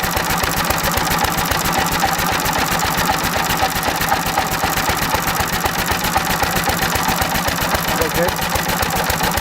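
Small engine running on pure SeaFoam as its fuel, spark being advanced, with a fast steady mechanical chatter, loud and close, holding an even rhythm throughout without any pause.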